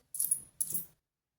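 Two euro coins dropped one after another into a paper budget envelope, each a bright short metallic clink with a brief jingle, close and alone in quiet.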